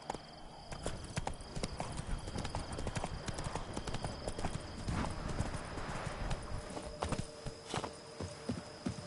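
Roach the horse in The Witcher 3, with steady clopping hooves throughout and a hint of a whinny, a constant hum beneath, close and continuous.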